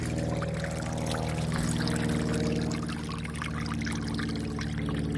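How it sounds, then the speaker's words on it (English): A small babbling brook in a wildlife preserve flows with a steady trickling rush, continuous and fairly close, with a low droning hum beneath it. "I hear a babbling brook. There's a small little babbling brook."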